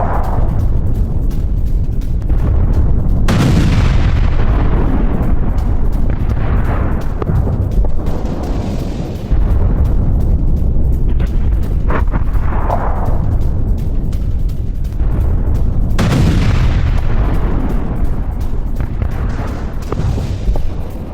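Heavy artillery fire and explosions on a Russian front line, including a struck self-propelled gun and ammunition store, come as loud booming blasts with long rumbling tails, several big detonations spaced across a constant roar.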